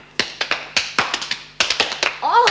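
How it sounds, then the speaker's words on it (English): A small group of women in a prison gives a brief, sparse clap, a few distinct close handclaps in loose bursts, followed by a voice starting to speak at the end. "Let's give the new governor a little clap."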